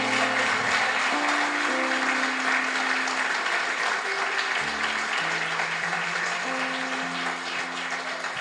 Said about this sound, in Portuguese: Merecia uma salva de palmas para Jesus?